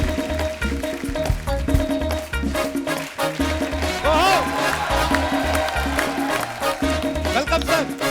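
Studio audience at a Kapil Sharma Show taping cheers and claps as guests enter, a dense sustained crowd noise mixed with loud band music throughout.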